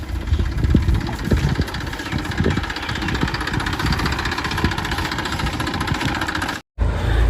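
A tractor engine runs steadily nearby, a continuous rumbling idle with knocking pulses that drops out briefly near the end before resuming.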